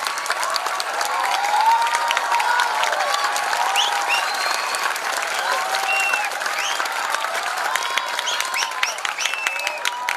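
An audience at a political party rally applauds, steady dense clapping from many hands sustained throughout with no speech over it.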